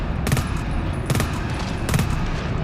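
An automated turret in the video game GTFO fires a steady, continuous stream of rapid shots, loud and unbroken, with the rattle swelling periodically as bursts overlap.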